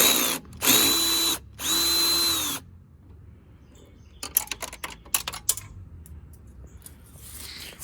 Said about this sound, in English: impact driver, or impact screwdriver, or whatever else you got. And it's a 7mm.